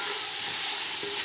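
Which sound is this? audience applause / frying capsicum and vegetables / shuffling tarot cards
frying capsicum and vegetables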